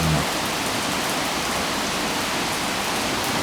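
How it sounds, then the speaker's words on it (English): Gentle rain falling steadily during an October storm, a soft continuous patter and hiss with no pauses, close and even throughout. "at least we got some rain"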